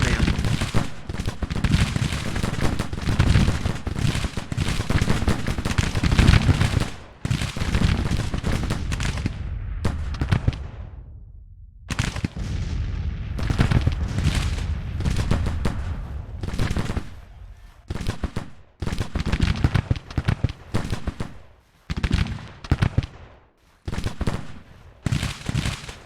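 Sustained volleys of gunfire from soldiers in a Civil War video game, dense overlapping musket shots crackling near and far, then thinning into scattered bursts with brief lulls.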